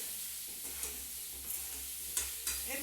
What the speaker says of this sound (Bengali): এবার আমার আলুটা সুন্দর ভাজা হয়ে গেল